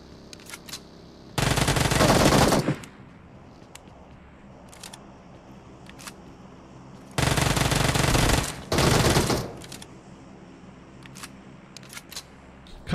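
Gunfire in the PUBG Mobile video game comes as two long, loud automatic bursts, the second broken by a brief gap, set among scattered sharp single clicks and shots over a quiet background.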